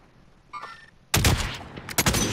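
Gunfire from the video game Call of Duty Warzone: a faint burst of distant shots, then a loud close volley of sharp cracks and echoing booms in quick succession.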